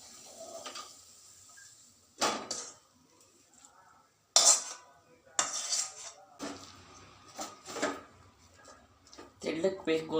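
Coconut-cashew burfi mixture being spread onto a ghee-greased plate, heard as separate clanks and scrapes of metal utensils against the plate and pan, with quiet gaps between bursts and a voice talking.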